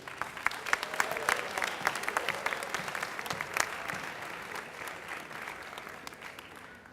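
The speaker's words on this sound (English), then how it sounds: "Big round of applause, please." Audience at a speech competition clapping in a steady round of applause, dense and sustained, gradually thinning toward the end.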